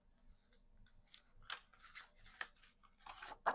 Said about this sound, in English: get a piece of my tape. Peel the backing off